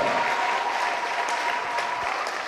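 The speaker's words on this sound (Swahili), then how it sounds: "Pigia Yesu makofi mazuri na vigelegele." A church congregation at a Lutheran morning worship service claps in a steady, dense wash of many hands, sustained and fairly loud, with no distinct ululation standing out.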